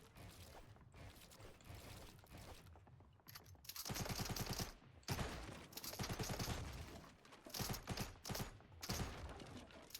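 Rapid bursts of automatic gunfire in a combat video game crackle in several separate volleys, fairly loud against quieter gaps with faint mechanical clicks.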